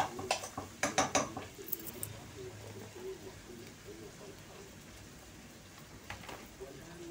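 A spoon clinks and scrapes against a pot of pasta in a home kitchen, with a burst of sharp metallic knocks at the start, then softer stirring and a few more clinks near the end, while a person talks quietly.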